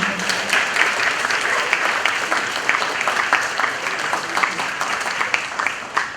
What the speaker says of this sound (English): Let's give a warm round of applause for Mr. Michael Simon.